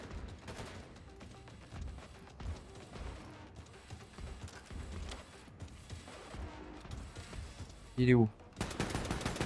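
Bursts of automatic gunfire ring out during Wolfenstein II: The Freedom Chronicles, rattling on and off at moderate distance under game sounds, with a loud blast near the end and a brief spoken question.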